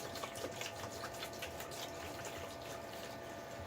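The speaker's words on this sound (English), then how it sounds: "Open up the water, so I'm gonna waste the whole gallon of my prized distilled water for this." Distilled water pouring steadily into a foot bath basin, a continuous soft gushing splash, faint and unbroken throughout.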